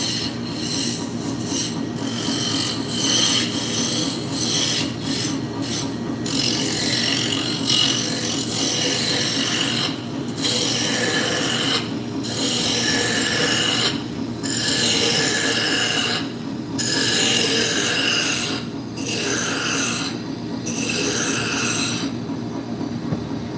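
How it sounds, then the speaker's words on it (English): A roughing gouge bites into spinning wood on a lathe, making a steady, loud rasping drone with a rhythmic pulse, broken by short gaps as the tool lifts off and comes back to the cut. "Now we're going to take a roughing gouge. We're going to bring it down to that diameter."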